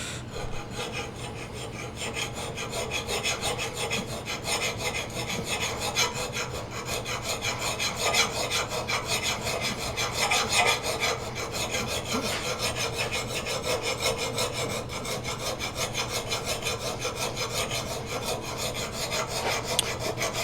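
A dull axe blade is draw filed under light pressure, giving a steady, continuous metallic rasp of file strokes, close and fairly loud for the whole stretch with no talking.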